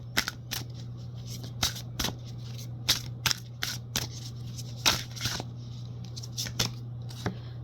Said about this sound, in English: I'm going to draw a card from the Sacred Feminine deck here.